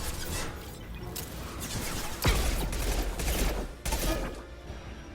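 Rapid bursts of machine pistol fire from the video game Mass Effect 2 crackle amid combat effects, short automatic volleys with one sharp louder shot midway, no talking.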